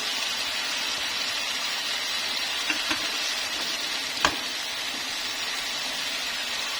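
Beef tendon and green tomatoes frying in a pan, a dense, even sizzle close by with a couple of faint utensil clicks, continuous and without any talking.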